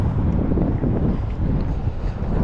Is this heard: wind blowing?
yes